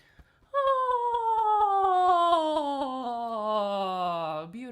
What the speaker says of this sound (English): Sometimes I like to yawn.